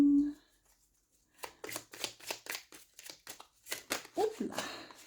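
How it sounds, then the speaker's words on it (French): Lenormand cards are drawn from a deck with a run of soft, close shuffling and sliding card sounds, while a voice speaks over them. "Donc je vais tirer 3 cartes."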